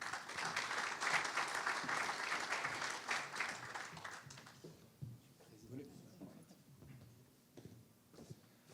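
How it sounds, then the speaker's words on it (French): An audience at an awards ceremony claps in a dense burst of applause for about five seconds. It then thins to scattered claps as a voice speaks over it. "Et sous vos applaudissements."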